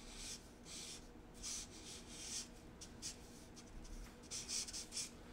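A pen or marker draws a shark on paper, faint scratchy strokes coming in short bursts and a quicker cluster near the end, quiet and close.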